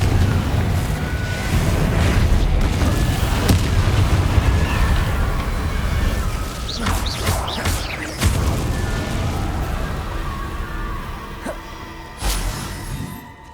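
A Confringo blasting spell in Hogwarts Legacy sets off booming explosions over a constant rumbling roar, with a few louder blasts standing out near the middle and close to the end.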